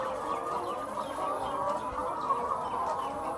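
A flock of chickens clucks continuously in a poultry farm shed, a dense, moderate chorus with no talking.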